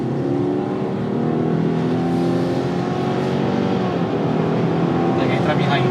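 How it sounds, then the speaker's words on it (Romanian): Subaru Outback engine pulling hard under acceleration, a loud steady drone with rising tones as the transmission simulates gear steps, heard from inside the car with voices talking over it. "Mașina simulează treptele."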